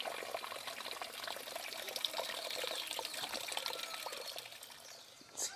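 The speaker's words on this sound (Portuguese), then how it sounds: "Caixa d'água encheu, transborda, que água vem da serra" Spring water overflowing from a full water tank on a rural farm, a steady close splashing and trickling stream running continuously with no voices.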